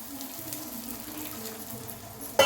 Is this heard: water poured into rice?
yes